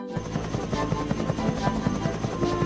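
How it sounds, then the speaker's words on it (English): Helicopter in a Thomas and Friends railway adventure video game, its rotor chopping in a steady, rapid rhythm at close range throughout, with a continuous engine drone underneath. "Would you fly Harold the helicopter, please?"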